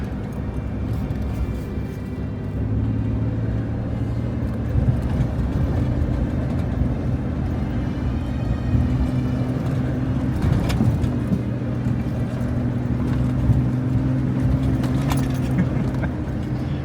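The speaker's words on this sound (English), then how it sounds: "Second time driving on sand, isn't it?" A 4x4 driving slowly along a sand track near Rainbow Beach, its engine a steady, loud low drone heard from inside the cabin, with light rattles and no pauses.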